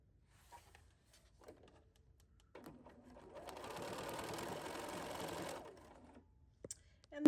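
A serger sews binding onto a woven potholder: a quiet, steady mechanical whir lasting about three seconds, close by, with faint handling clicks before and after.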